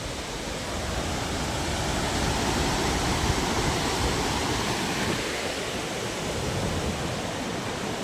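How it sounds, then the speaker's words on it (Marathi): Water from the overloaded Nathsagar dam at Paithan is released through the gates and roars as a dense, continuous rush. The sound is loud and steady throughout, like a waterfall heard from nearby, with no talking. "पाणी असं वर उडून इकडे वर राहिलंय"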